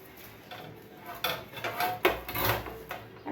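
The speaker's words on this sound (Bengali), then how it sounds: "তো মূলা শাকগুলো আমি একটু কেটে নেব, রান্না করব। কুচি কুচি করে নেবো একটু" Fresh radish greens being chopped finely with a knife on a cutting board, a run of close, quiet, irregular cutting knocks with no talking.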